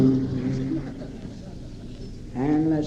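A man imitates boat whistles with his voice into a Shure microphone. Two short, hooting whistle-like tones are separated by a brief rough pause, and the sound is close and moderately loud.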